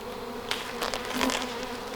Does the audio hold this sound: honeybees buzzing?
yes